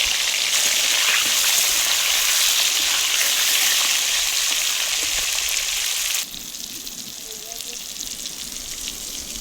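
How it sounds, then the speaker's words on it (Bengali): Pointed gourd pieces fry in hot oil in a wok with a loud, steady sizzle that drops noticeably in level partway through and continues more quietly. "পটলগুলো দিয়ে দেবো ভাজার জন্য।"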